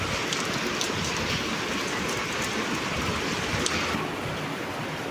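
Heavy monsoon rain pours down steadily in Bhavnagar, a dense, continuous roar of rainfall that stays loud and unbroken throughout with no voices.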